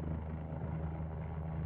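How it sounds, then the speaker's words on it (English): Helicopter hovering near skyscrapers in Dubai, a steady low rotor drone and engine hum, continuous and fairly distant-sounding throughout the short moment. "I'm going to do some hovering, helicopter hovering, in on these skyscrapers"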